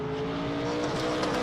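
A race car engine revving hard on a mountain hill climb, a loud, sustained high-pitched roar with a brief fluttering rise near the end, close and with no talk over it.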